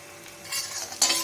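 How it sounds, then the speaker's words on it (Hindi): Fried onions being stirred in a pan with a spoon, a brief close sizzle that swells as the spoon scrapes through, rising sharply near the end, with no speech. "देखिए, प्याज हमारा फ्राई हो गया है"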